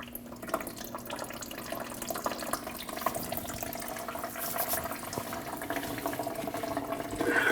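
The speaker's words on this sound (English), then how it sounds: "You want to twist this white piece to your left, and that's going to drain your coolant." Coolant drains from the radiator petcock of a 2012-2016 Honda CR-V 2.4L into a bucket below, a steady, faint trickle and splash of liquid running continuously.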